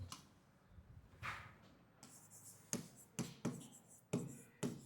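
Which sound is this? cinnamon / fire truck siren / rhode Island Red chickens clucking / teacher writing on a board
teacher writing on a board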